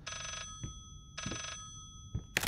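An old-style telephone bell rings twice in the horror game Layers of Fear, two bright metallic bursts separated by silence with faint thumps between them.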